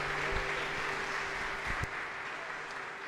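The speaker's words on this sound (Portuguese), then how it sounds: "A igreja pode aplaudir o nome do Senhor nessa noite" A church congregation at a Baptist church anniversary service applauds in praise, a sustained, even patter of many hands filling the sanctuary, with a few low thumps and a faint steady hum beneath.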